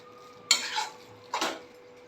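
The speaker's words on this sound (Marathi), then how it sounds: "हा किस मी एक 3-4 मिनटं तुपावर परतून घेणार आहे, वाफवून घेणार आहे." Grated raw mango being sautéed in ghee over low heat, heard as two short stirring scrapes of a spoon in the pan, close and clear against a quiet background with no voices.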